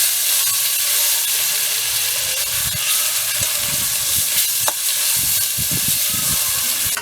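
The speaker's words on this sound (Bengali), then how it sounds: "জিরে গুঁড়ো, নুন, আদা বাটা আর লঙ্কার বাটা ওটা দিয়ে দিলাম। এবার একটু কষিয়ে নেব।" Cumin powder, salt, ginger paste and chilli paste sizzle and fry steadily in a pan for a khichuri, a close continuous hiss with occasional soft stirring scrapes and no talking.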